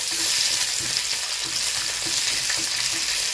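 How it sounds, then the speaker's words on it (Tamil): Whole garlic cloves frying in hot oil, a dense, close, continuous crackling sizzle with faint stirring knocks, no voices. "உள்ளி நல்லா பொரியட்டும்"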